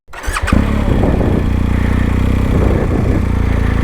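Motorcycle on a rough dirt track with ruts, engine catching after a brief start and then running at a steady, loud, close idle-to-low rev with a rhythmic throb.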